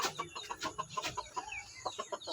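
Native chickens cluck close by in a continuous busy chatter of short, overlapping calls with no talking.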